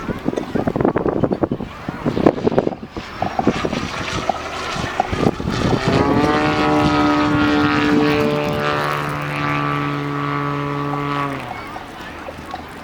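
A Yak 54 scale model airplane with a smoke system flies a display at the Midlands Air Festival 2022, looping and stall-turning. Its engine drones with wind buffeting, then settles into a steady, rising harmonic whine before cutting off.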